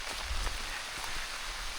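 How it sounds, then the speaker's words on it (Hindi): Faint monsoon rain falls steadily in the Dang jungle, a soft hiss of drops on surfaces with a low rumble of wind, no voices. "और ये फिर से बारिश आ गई"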